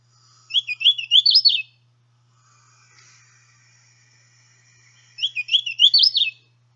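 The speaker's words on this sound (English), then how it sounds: "So the song is also quite easy for the hooded warbler." A hooded warbler sings two loud, rich, clear phrases, each a rising run of slurred whistled notes with an emphatic ending, separated by a few seconds of quiet with a faint call between.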